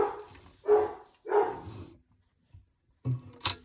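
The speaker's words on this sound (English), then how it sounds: "And my dog Smokey's at it again." A pet dog barks indoors in a home embroidery workspace: a few loud, close barks come in quick succession, then a pause, then two more sharp barks.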